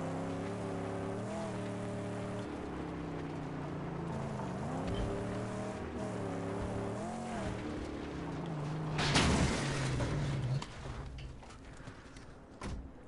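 In the Mad Max video game, a car engine whines and shifts pitch while accelerating, then a sharp burst of tire squeal and scraping cuts in before the engine fades to a quieter rumble.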